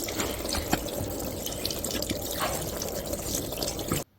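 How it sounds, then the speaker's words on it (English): A KOSPET TANK T4C rugged smartwatch is rinsed under a running tap, giving a steady close hiss of flowing water with scattered drips and splashes that stops abruptly at the end. "I just need to go and rinse it under the tap"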